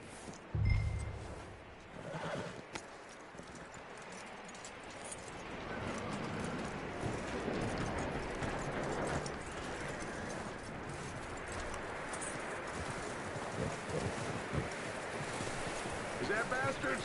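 Horse hooves clip-clop in Red Dead Redemption 2, a continuous patter of steps mixed with rustling ambience and a moderately loud outdoor bed. Voices speak over it at times.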